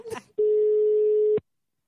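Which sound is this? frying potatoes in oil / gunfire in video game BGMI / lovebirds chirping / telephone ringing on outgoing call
telephone ringing on outgoing call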